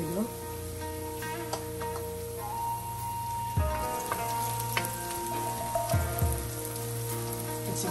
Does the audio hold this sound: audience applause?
no